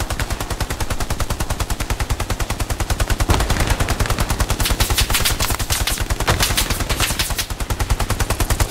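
Sustained rapid automatic gunfire in the World War II shooter Hell Let Loose, a dense unbroken machine-gun stream, loud and close, with heavier bursts overlapping in the middle.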